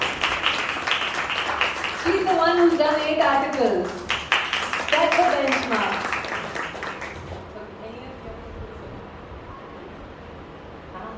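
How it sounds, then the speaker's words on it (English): A school crowd at an intern farewell claps and cheers loudly beneath someone speaking over a microphone, the applause swelling then fading to a quieter murmur near the end. "Give her a big round of applause, guys."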